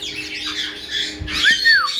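Pet parrots squawk loudly at close range in a home, harsh bursts of calls plus a rising-and-falling whistled screech near the end, with no talking.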